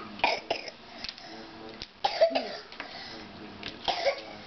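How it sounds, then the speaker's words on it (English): Several short, harsh coughs and throat clearings come in separate bursts across a few seconds, close to the listener, with no talking in between. "You coughing?"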